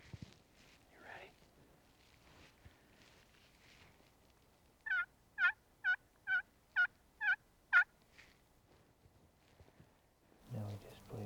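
Wild turkeys gobbling at a distance, a run of about seven evenly spaced, rapid calls in quick succession amid quiet outdoor ambience, with faint soft whispering nearby.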